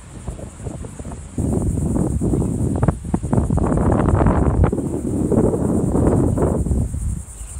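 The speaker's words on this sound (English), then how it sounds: "It's a little windy today." Steady wind buffeting the microphone outdoors at Shackleford Banks nature preserve near Beaufort, North Carolina, a continuous low rumble with gusts rising and falling, plus a faint high insect-like hiss throughout.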